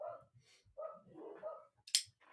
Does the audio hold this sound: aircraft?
no